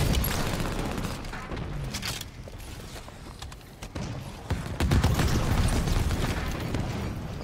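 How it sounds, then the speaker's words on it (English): Halo 5 gameplay with grenade explosions and gunfire, a dense, loud mix of booms and rapid shots that rolls on continuously with a brief lull midway. "Grenade incoming!"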